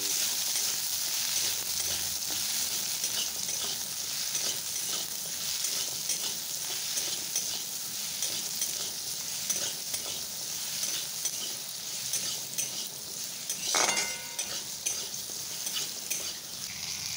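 Hog plums fry in oil with five-spice seeds for a chutney while being turned over, a soft steady sizzle with faint scraping and one sharp clattering knock near the end.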